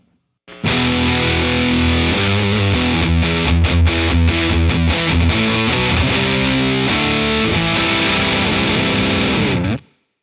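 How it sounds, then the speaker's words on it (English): An electric guitar runs through a Boss heavy metal distortion pedal, playing loud, saturated chords and riffs for about nine seconds before cutting off abruptly. "let's go with the heavy metal pedal."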